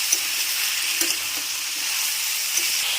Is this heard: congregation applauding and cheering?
no